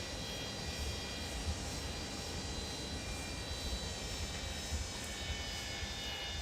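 Jet engines of a Boeing 727-200 Freighter in a flight simulator game, heard during taxi as a steady, loud, unbroken roar and whine that holds for the whole stretch with no talking.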